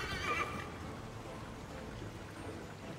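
A horse whinnies briefly near the start in a video game, Assassin's Creed III Remastered, then a steady low rumbling ambience continues underneath.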